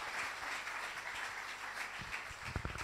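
A church congregation at a French-language service applauds, a steady wash of clapping at moderate distance that continues throughout the short stretch.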